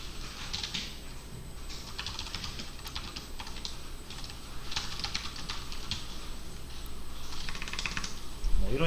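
Keys clatter on a computer keyboard while text is entered into a file in the vim editor, a steady stream of close clicks in irregular bursts over a constant background hiss.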